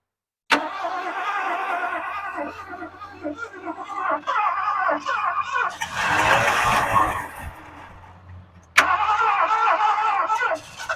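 A 1979 Lincoln Continental, abandoned for 32 years, cranks and tries to start with a loud, rough burst of engine noise in the middle. People talk throughout, before and after the start attempt.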